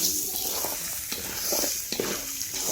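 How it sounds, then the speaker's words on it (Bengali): Rice grains being stir-fried in oil in a wok for pulao, right after onions were fried golden: a steady close sizzle broken by repeated scraping stirs at a loose, uneven rhythm, with no talking. "এখন মোরা চালগুলোরে ভাজ দিলাম।"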